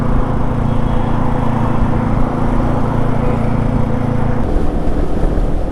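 Royal Enfield Himalayan motorcycle cruising at 100 km/h in sixth gear, a steady loud engine hum mixed with heavy wind rush from riding, the tone dropping slightly near the end, with no talking.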